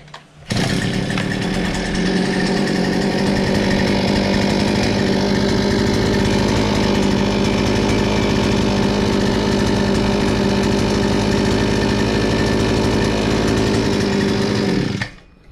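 An earth auger engine that won't shut off runs at a loud, constant, high-pitched two-stroke whine, close by and unbroken for about fourteen seconds before cutting out.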